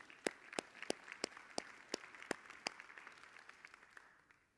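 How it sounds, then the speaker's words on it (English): Conference audience applause at an entrepreneurs' marketing event, heard as a steady run of distinct, evenly spaced sharp claps, fairly quiet, fading out at the end. "Give yourselves all a huge round of applause"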